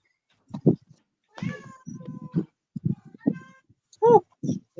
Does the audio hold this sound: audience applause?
no